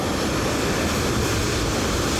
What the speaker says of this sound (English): The helicopter of the lighthouses and beacons just landed at the bow of the Pharos.